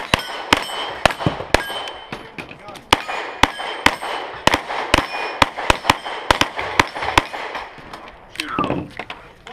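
Revolver shots crack one after another at an outdoor steel plate shoot, each bang followed by a bright metallic ring from the struck plates, quick irregular volleys with a brief voice near the end.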